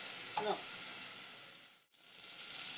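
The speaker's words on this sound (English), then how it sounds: "You hear it frying up." Spanish-style rice with sausages sizzles steadily in a hot pan, a bright crackling hiss with a brief scrape of stirring and a momentary drop-out before the frying resumes.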